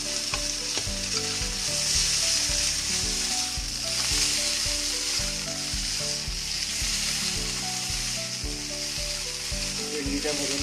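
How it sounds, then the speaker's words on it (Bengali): Okra (bhindi) sizzles as it fries in a pan, a loud, continuous crackling hiss running throughout, set over a soft, steady melodic background. "ভেন্ডিটা ভেজে দিচ্ছে।"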